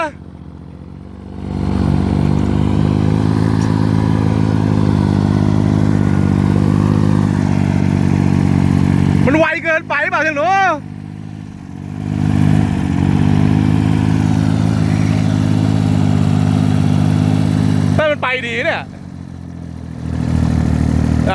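A Kubota L2402 M tractor engine runs steadily at a low, mid-pitched drone while driving, with a brief voice breaking in twice over the engine noise.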